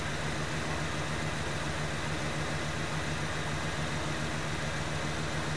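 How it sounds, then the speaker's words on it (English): A 1968 Mercury Park Lane engine idles steadily and quietly, a smooth low hum with a faint even pulse, no ticking or knocking, no other sounds over it. "And the engine up front, so quiet."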